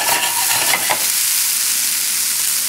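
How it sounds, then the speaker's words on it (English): Brown rice and garbanzo beans sizzle in a hot pan, a loud steady hiss of frying with a few scraping stirs early on and no voices. "And when I mix this with the rice, I might add some more garbanzo."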